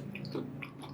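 Close, crisp crunching of someone chewing a breaded, deep-fried tomato slice (calamatis), a few quick bites heard alone without talk.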